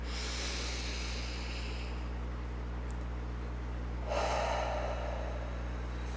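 Slow breaths drawn in and let out during a guided breathing exercise, a soft airy inhale followed later by a louder, rushing exhale, close and alone over a steady low hum.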